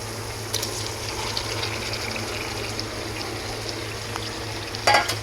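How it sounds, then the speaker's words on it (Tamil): Marinated chicken drops into a pan of frying tomatoes, a continuous close sizzle under a low hum, with a brief louder splash and clatter near the end. "நாம் இங்கே ஊற வச்ச இந்த சிக்கனை எடுத்து கொட்டிடலாம்"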